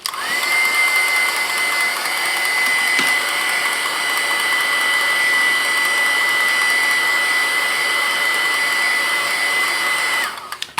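A heat tool blows steadily on glossy paper during a watermark resist technique, a loud continuous whirring hiss with a high whine that runs for about ten seconds before cutting off, with no talking.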